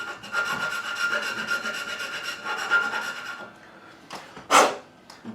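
A file rasps back and forth through the nut slots of a Takamine ESG-45SC guitar, steady close strokes in a continuous run, then a pause and one sharp louder stroke near the end.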